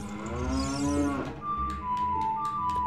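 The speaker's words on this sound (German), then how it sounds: "diese Kuh wird jetzt gemolken" A cow in the video game Zelda Ocarina of Time moos loudly while being milked; one long drawn-out low moo is followed by short bright chime-like game tones, with no talking.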